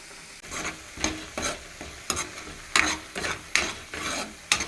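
Onion paste and prawns frying in a pan, a soft steady sizzle broken by regular, rhythmic stirring scrapes about twice a second, close up with no voices.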